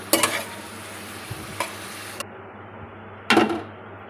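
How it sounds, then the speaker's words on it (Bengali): A spatula stirs spiny gourd fry mixed with coconut powder in a pan, giving a few sharp scraping strokes over a faint, steady sizzle; nobody speaks. "কাঁকরোল সেদ্ধ হয়ে গেছে এবার নেড়ে চেড়ে নামিয়ে নেব"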